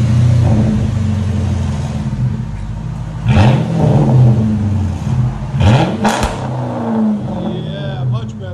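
Dodge Magnum RT with a 5.7L HEMI V8 and aftermarket exhaust revving hard, a loud idle rumble broken by two sharp throttle blips that rise and fall, with brief voices in between.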